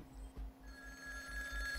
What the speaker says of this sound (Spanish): Vamos a coger el teléfono.